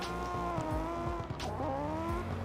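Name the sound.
drift cars accelerating hard, tires squealing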